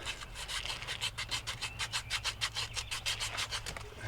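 Emery sand cloth is rubbed back and forth over corroded copper AC line fittings on a Trane XR15 central air unit, producing rapid, even rasping strokes, close and moderately quiet, with no talk.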